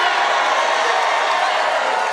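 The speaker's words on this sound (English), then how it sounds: "And what a crowd." Crowd cheering at a presidential rally in Rocky Mount, North Carolina, a dense, loud, sustained roar of many voices filling the whole clip without a break.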